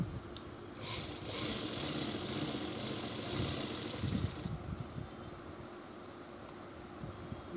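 A sewing machine stitches salwar fabric in a steady mechanical whir of even speed for a few seconds, then stops and leaves a faint hum with light clicks.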